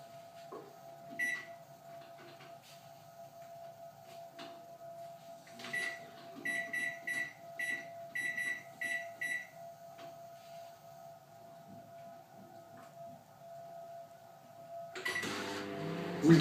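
A microwave oven set to medium power runs to melt chocolate. A steady low hum plays throughout, with bursts of soft rhythmic clicking and rattling in the middle and a louder clunk near the end.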